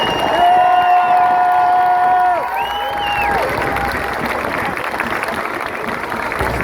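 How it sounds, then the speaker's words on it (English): A crowd at a gathering greets a barrister with clapping and cheering. High drawn-out whoops ride over the dense applause for the first few seconds, then it settles into a steady, hissing wash of clapping. "So please give a big round of applause for Una."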